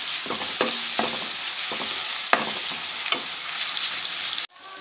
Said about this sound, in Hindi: और इसको भून लेते हैं थोड़ा सा।